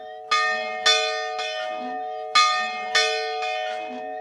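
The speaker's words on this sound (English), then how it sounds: "is to see if the bells still work" Old church bells ring inside an 1860s church, with six loud, resonant strikes in two groups of three and long shimmering decay between them.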